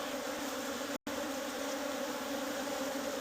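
Honey bees buzzing at an active beehive box during winter beekeeping, a dense, steady swarm drone close by with one brief dropout, no talking.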